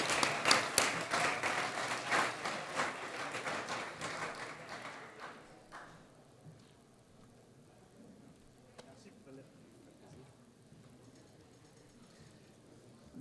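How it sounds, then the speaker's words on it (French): Audience applause at a closing cocktail event, loud and dense for about five seconds before thinning into scattered claps and quiet room murmur, with a few isolated claps near the end. "On l'applaudit."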